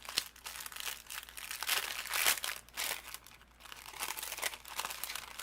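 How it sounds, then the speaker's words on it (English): A plastic embellishment bag for fall-themed cardmaking is torn open and handled, giving close, continuous crinkling with sharper rustling bursts throughout. "go ahead and open up our embellishment bag"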